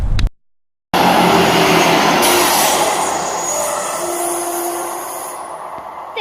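An Arriva Trains Wales Class 158 diesel multiple unit passes at Briton Ferry, a loud, sustained close-range roar with rumbling wheels and faint tonal squeals that ease off slightly toward the end.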